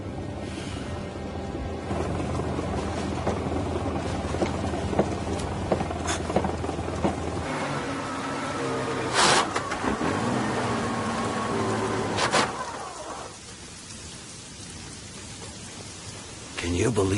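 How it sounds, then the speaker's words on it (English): Steady rain hisses throughout with a few louder splashy bursts, dropping to a quieter patter near the end. "Can you believe this rain?"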